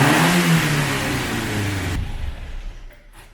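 Renault Express engine revving close by, a loud rising roar that drops sharply after two seconds and settles into a quieter, fading engine note.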